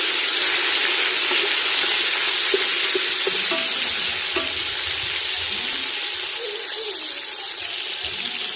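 Ginger and tomato going into browned onions for vegetable pulao, giving a loud, continuous hiss and sizzle with faint stirring clinks and no voices.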